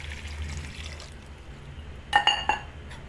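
Water being poured from a glass into a bowl of raita with masala boondi, a few quick splashes and glassy clinks close by, brief and fairly quiet after a low background hum.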